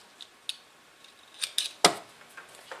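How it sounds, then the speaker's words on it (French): Small sewing scissors snip thread ends on a summer tunic, a few light, quiet clicks and one sharper snip near the middle. "Je coupe les fils."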